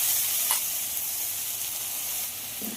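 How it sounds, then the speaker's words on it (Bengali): Masoor lentils hit a hot pan with ginger and garlic, giving a steady soft hiss and sizzle with a couple of faint clinks, close by and free of talk. "এবার এতে মুসুর ডালটা দিয়ে দেব।"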